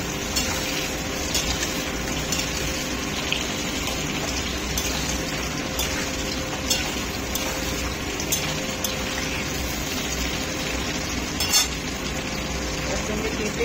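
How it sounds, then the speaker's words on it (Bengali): Whole onions and garlic frying in oil for a Bengali chicken curry, giving a steady, dense sizzle that runs unbroken throughout with faint clinks and no talk. "গোটা গোটা পেঁয়াজ, রসুন সব ভেজে নিচ্ছি।"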